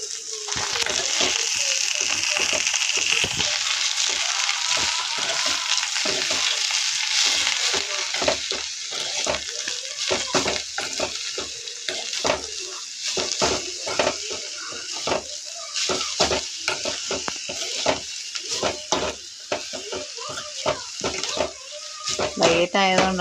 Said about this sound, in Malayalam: നമുക്ക് ഇളക്കി പൊത്തി വെക്കാം.